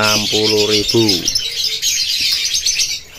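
A caged lovebird at a bird market gives a few loud, close, tonal chirps, then a dense high chatter of many birds continues steadily.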